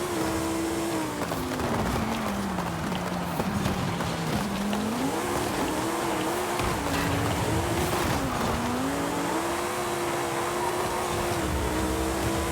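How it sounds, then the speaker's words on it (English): A rear-wheel-drive Lamborghini Huracan STO with a V10 of over 1,000 horsepower in Forza Horizon 5 launches hard. The engine howls and rises in steady waves while the tires spin and squeal under it. "Good launch, but"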